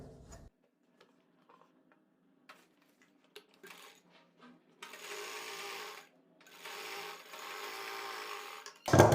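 A sewing machine stitches pintucks on a kurti, starting with scattered small clicks and taps before two loud bursts of rapid stitching, then a sharp knock at the end.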